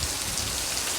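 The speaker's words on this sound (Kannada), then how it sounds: "ಮೈಸೂರೊಳಗೆ ಫುಲ್ ಜೋರು ಮಳೆ ಬರ್ತಿದೆ ನೋಡ್ರಿ" Heavy rain pours steadily in Mysuru, a dense, loud hiss of drops hammering surfaces without pause, close by and with no voices over it.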